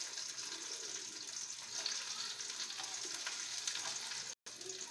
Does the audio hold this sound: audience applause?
no